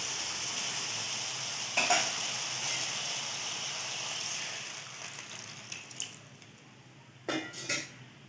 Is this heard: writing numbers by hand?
no